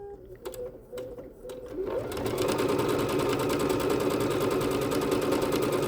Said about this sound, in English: we're continuing to stitch out all of the decorative stitches on the B-77 Bernette